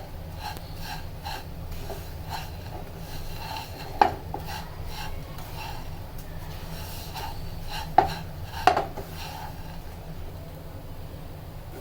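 Vermicelli and sugar are stirred continuously in a pan for nawabi semai, giving soft, rhythmic scraping strokes with a few louder knocks of the spoon against the pan, quiet and close.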